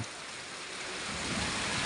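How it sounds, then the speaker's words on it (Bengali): Dense, steady rain pours down in a constant hiss, loud and close, with no breaks or voices. "অলরেডি বৃষ্টি কী হারে বৃষ্টি হচ্ছে দেখছেন"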